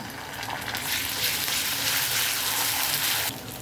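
Ginger-garlic paste hitting onion already fried red in hot oil, a loud hissing sizzle that swells and holds for a few seconds before dropping back, close and without speech.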